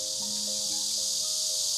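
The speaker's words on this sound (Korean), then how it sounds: "지금은 매미 소리가 이렇게 들리고" Cicadas sing in a steady, high, hissing drone that fills the whole moment, while a few ringing, metallic handpan notes sound softly beneath it.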